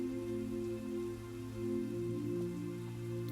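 Steady patter of raindrops falling on a surface, a soft continuous hiss of rain at moderate distance with no voices.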